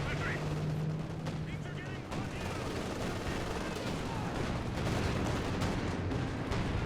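Artillery barrage in Company of Heroes 2 during a 4v4 match in Lienne Forest, a dense rumbling mass of booming impacts and crackling fire running continuously and loudly throughout, with a voice talking over it.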